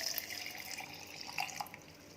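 A glass of water poured into a blender jar holding washed cashews makes a soft, steady trickle and splash with scattered drips, close and fairly quiet, with no voices.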